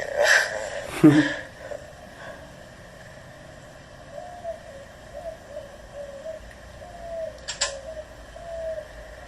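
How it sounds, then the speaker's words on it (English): Outdoors, birds chirp and coo. A few brighter calls come early, then softer intermittent cooing runs along beneath faint background sound. "Birds are nice."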